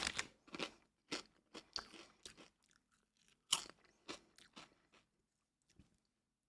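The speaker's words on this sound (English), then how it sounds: "I was gonna ask if they were kettles by the crunch." Kettle-cooked potato chips are bitten and chewed close to the mic in a string of sharp, dry crunches, loud at first and then thinning out with pauses between them.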